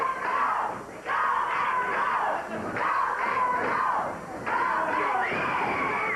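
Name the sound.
wrestling crowd hollering and cheering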